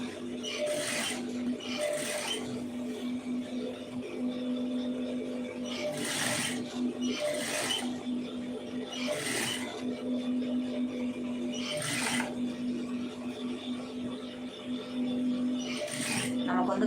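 A sewing machine stitches loosely fed lace onto a fabric neck piece, running in repeated short bursts of a few seconds over a steady motor hum, with a voice talking in between.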